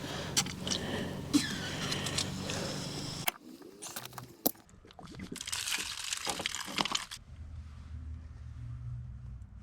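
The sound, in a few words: sprinkler head releasing water to bleed pressure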